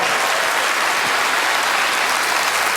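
An audience applauds a volunteer at a stage magic show, a dense steady wash of clapping from a full crowd, loud and continuous for the whole stretch.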